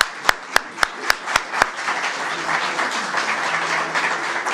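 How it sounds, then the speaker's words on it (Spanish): An audience at an art exhibition gives welcoming applause for an artist, opening with a few loud, evenly spaced claps before a crowd joins in with steady, dense clapping at moderate volume. "te damos la bienvenida con un aplauso."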